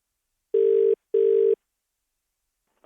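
A telephone rings back twice after a number is dialed, giving two loud, even tones with a gap between them and then silence, and a voice starts right at the end.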